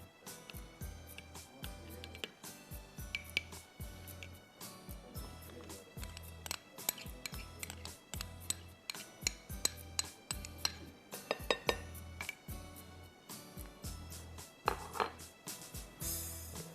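A whisk or spoon knocks and scrapes against a bowl while cocoa is stirred into milk, a fast, steady run of clinks and taps throughout with no talking.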